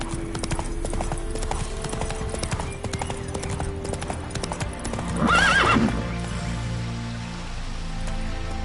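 The horse Roach from The Witcher III gallops with rapid rhythmic hoof clip-clops. A loud whinny sounds near the middle, and rain patters in the background.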